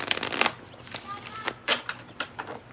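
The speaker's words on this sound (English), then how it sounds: "One more shuffle." Tarot cards are shuffled in a quick riffling burst followed by scattered soft card snaps and taps, close and fairly quiet.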